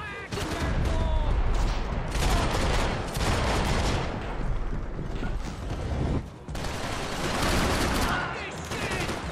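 Dense, continuous gunfire from a shootout in Max Payne 3, set in Hoboken, with rapid overlapping shots and automatic bursts filling the whole stretch at steady, loud intensity.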